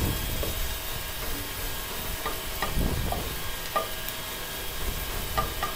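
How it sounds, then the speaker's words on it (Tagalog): Garlic and onion sautéing in a home kitchen pan, a steady close sizzle with scattered scraping stirs and small clinks throughout, no voices. "Sutay lang po natin yung bawang at sibuyas."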